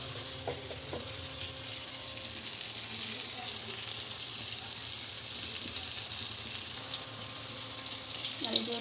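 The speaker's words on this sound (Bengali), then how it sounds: "এদিকে আমার বেগুন ভাজা হতে থাক" Brinjal slices frying in oil give a soft, continuous sizzling hiss, fairly faint, with a few light clinks near the start and end.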